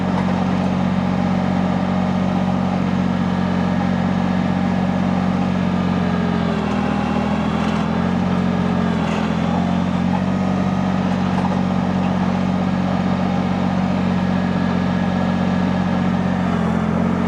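Countyline PHD100 post hole digger engine running just under 2000 RPM, a loud steady mechanical drone with a slight dip in load midway and no talk.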